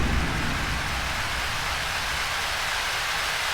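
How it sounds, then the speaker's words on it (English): A synthesized thunder-and-rain patch played on a keyboard gives a dense, steady hiss of rain with a low rumbling wash underneath, loud and unbroken for the whole stretch. "Hallian Sonic Thunder and Rain patch. Played on the keyboard."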